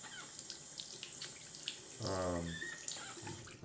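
Water runs from a bathroom tap during a double-edge razor head shave, a soft, steady rush that is faint and close, with a brief swell as the flow changes under a voice.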